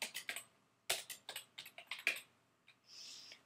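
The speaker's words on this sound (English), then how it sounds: "So right here I'm going to type Wrigley Field." Fingers type on a computer keyboard in a quick burst of close, crisp key taps, followed by a short pause and a softer trailing shuffle.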